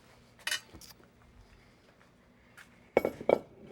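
Dishes clink as a salad bowl is taken out in a home kitchen, with a few separate bright clatters near the start and a louder pair of ceramic knocks toward the end, close and with no talking.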